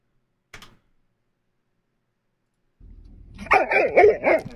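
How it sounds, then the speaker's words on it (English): A dog barks several times in a quick burst near the end, loud and close, after a brief knock and a low rumble, with no talk over it. "Dog."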